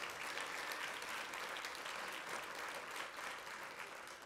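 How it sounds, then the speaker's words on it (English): Banquet audience applauding a 4-H award winner, a steady dense wash of clapping that holds evenly throughout and tapers slightly at the end, with no voices over it. "Let's give Rob Ryan another big round of applause."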